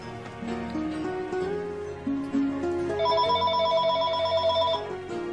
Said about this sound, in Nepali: लो कसको फोन आयो